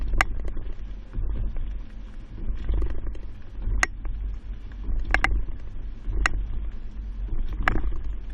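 A 2020 Jeep Grand Cherokee carrying a Kuat NV 2.0 two-bike rack rolls over alternating speed bumps, a low rumbling drive broken by several sharp rattling clunks from the rack at irregular intervals.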